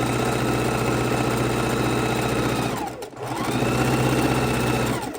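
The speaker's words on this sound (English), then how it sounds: "So let's sew this straight across." A sewing machine sews straight across quilt fabric scraps in a steady, loud, continuous hum with a clear regular stitch rhythm, slowing briefly near the middle before running on at full speed.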